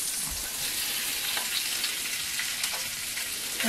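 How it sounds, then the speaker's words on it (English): Onions and mushrooms fry in hot oil in a small RV kitchen, giving a loud, dense, continuous sizzle with a couple of faint stirring clicks close by. "I'm gonna put in my onions and start with the onions"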